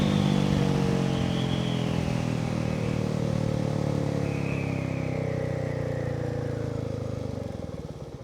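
A 2023 Royal Enfield Meteor 350 cruiser motorcycle accelerating from 0 to 80, a steady loud engine drone with rising pitch through gear changes, fading slightly at the end.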